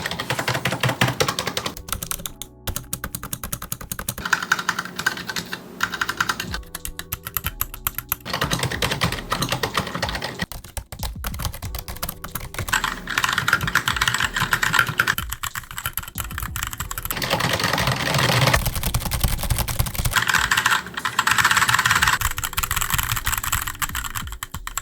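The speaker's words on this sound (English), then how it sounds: "here's the sound test between the two keyboards, the Razer Synosa and the GMMK" Steady typing on two mechanical keyboards, a Razer and a Glorious GMMK Compact 60%, as a continuous clatter of keystrokes with brief pauses between bursts, close and moderately loud throughout.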